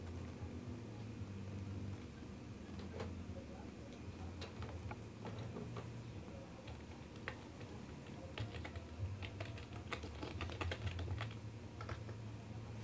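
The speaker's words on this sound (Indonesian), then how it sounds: "ketikkan saja nih di sini fastboot device" Keys clatter on a computer keyboard as a fastboot command is typed, with quick irregular bursts of clicks and a few sharper taps over a low steady background hum.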